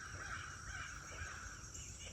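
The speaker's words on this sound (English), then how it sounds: "Crows and tree knocks." Crows caw repeatedly outdoors in a steady run of harsh calls at moderate distance, heard alone over a faint background hiss.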